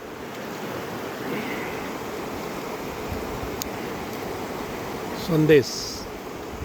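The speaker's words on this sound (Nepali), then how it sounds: "खोला ठुलो नाला खोला छ, अनि बगेको पानी हो यो" A large mountain stream flows steadily beside a hillside, a broad continuous rushing roar throughout, with brief talk and a short voice near the end.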